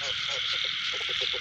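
Male field frogs croak at night in a flooded rice field after rain, a string of repeated, moderately close calls over a dense, steady insect chorus.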